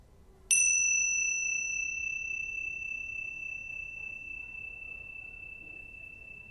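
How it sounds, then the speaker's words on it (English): A single meditation bell is struck once, a bright clear chime that rings out and slowly decays over several seconds in a quiet room. "I'll sound this bell, and you can notice the sound of the bell moving through time"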